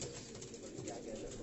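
Jaunsari breed pigeons on a rooftop loft coo steadily in a dense, continuous murmur, several birds close by with no gaps and no talking.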